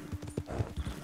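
Horse hooves clip-clopping at a steady walk in the open-world game Red Dead Redemption 2, a few close, thudding steps over about a second with a faint background hum.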